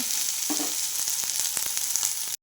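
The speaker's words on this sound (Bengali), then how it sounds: "টমেটোটা যতক্ষণ না নরম হচ্ছে ততক্ষণ একটু এটাকে নাড়িয়ে নাড়িয়ে আর কি টমেটোটাকে নরম করব" Tomatoes fry in a pan with a bright, steady sizzle. A spoon stirs them in quick, light scrapes close by, with no talking, and the sound stops abruptly.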